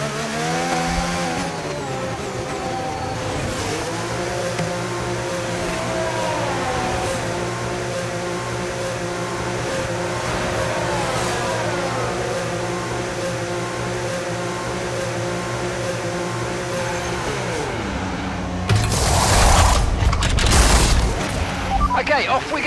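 F1 race car engine in F1 25 during a MyTeam career race at Miami, a steady high-pitched whine with rising gear sweeps over about twenty seconds, then a loud harsh roaring burst near the end.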